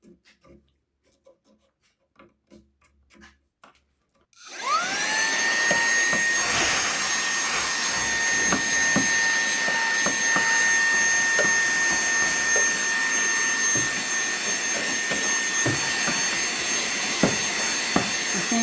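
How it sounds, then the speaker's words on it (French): A few quiet clicks and taps, then a small handheld car vacuum whines to life cleaning an xTool S1 fume extraction fan, running loudly and steadily, its motor hum broken by occasional rattles. "Le petit aspirateur, c'est tout simplement un petit aspirateur qu'on peut utiliser dans les voitures."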